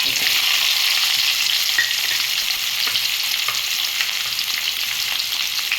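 Loud, steady hissing of a tempering of garlic, onion and curry leaves frying in hot oil, close and continuous, with tiny crackles and pops throughout and no talking.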